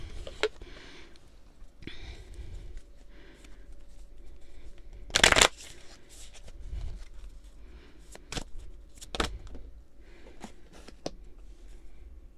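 A deck of Universe Has Your Back oracle cards being shuffled by hand, soft papery riffles and taps at close range, with one louder burst of shuffling in the middle and quiet gaps between.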